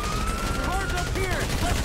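Rapid gunfire during a police shootout in GTA V, a steady dense rattle of shots layered with wailing sirens and game sounds throughout.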